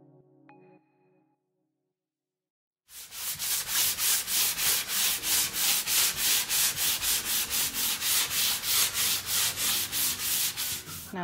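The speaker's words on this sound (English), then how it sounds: "I'm going to go in with some 220 grit sandpaper on my sanding block and knock down all those chips" Rhythmic back-and-forth sanding of milk paint on a chippy farmhouse finish, 220 grit sandpaper on a sanding block, with steady, close, loud scratchy strokes repeating about twice per second after a short quiet start.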